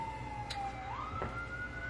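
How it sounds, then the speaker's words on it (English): An emergency vehicle siren wails faintly in the distance, its tone sliding from low to higher pitch over steady background hum, heard from indoors during home kombucha brewing. "here's sirens."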